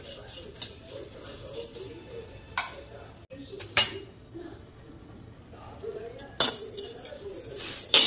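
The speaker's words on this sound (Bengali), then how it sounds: "আমি কাঠখোলায় চিড়েটাকে ভেজে নেব" Red rice flakes are dry-roasted in a hot pan without oil, with a few sharp scraping clinks of the utensil against the metal at irregular intervals over a faint, steady hiss.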